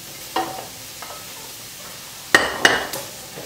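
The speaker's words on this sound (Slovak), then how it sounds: "Teraz si tam dáme z toho karfiola." Cauliflower goes into a pot of vegetable risotto with cheese, giving a soft sizzle and a few short scraping stirs, with two sharper bursts near the end over a low background hiss.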